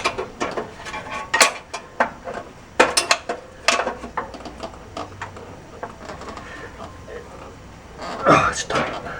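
A screwdriver works against the transmission flex plate of a Continental Mark III, giving irregular close metallic clanks, ticks and ratcheting scrapes, with someone talking between them.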